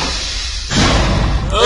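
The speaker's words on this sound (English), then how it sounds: "Shut that door!" A door slams shut with a heavy thud in SCP: Containment Breach, a sharp loud impact partway through, with a person talking around it.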